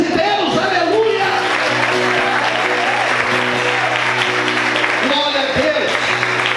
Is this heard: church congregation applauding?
yes